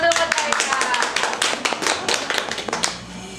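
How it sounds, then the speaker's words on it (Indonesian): A group claps for Kak Eka at a village outreach presentation, a lively round of distinct, close hand claps with uneven rhythm, mixed with some voices, tapering slightly toward the end. "Eka, tepuk tangan dong buat Kak Eka."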